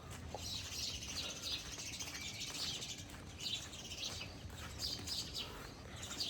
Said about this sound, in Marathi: चिमण्यांचा आवाज येत असेल, चिकचू